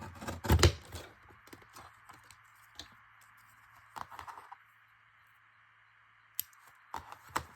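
Scissors cut through pink sparkly cardstock in a few crisp, quiet snips spaced out with pauses and light handling noise in between.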